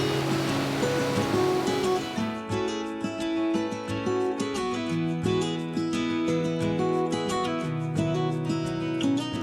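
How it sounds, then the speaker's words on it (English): Rushing water from a waterfall in the Pyrenees roars steadily as a continuous wash of sound, with a constant level and no voices. "this time is a waterfall"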